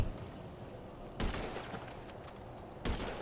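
Gunfire in the video game GTA 5 Online comes as two sharp, faint bursts separated by a couple of seconds, with scattered smaller cracks between them against a low, hissy background.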